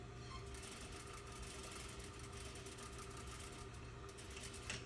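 Sewing machine stitching elastic down fabric, a continuous low mechanical whirr with steady rapid needle chatter, faint and alone without talking.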